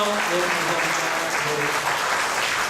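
A church congregation applauds steadily, thick and continuous clapping throughout with faint voices underneath.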